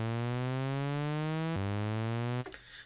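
Omnisphere synthesizer tone with its pitch modulated by a saw wave, a buzzy harmonic note sweeping upward in repeating ramps, each cycle snapping back down, before cutting off near the end.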